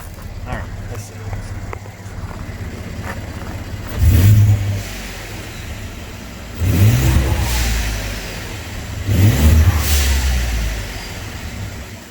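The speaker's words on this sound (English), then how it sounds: "But do a couple little revs here real quick." A 2015 Ford F-150 EcoBoost pickup with an SPD cat-back exhaust idles with a low rumble, then revs up three times in short bursts, each swelling loud and falling back to idle.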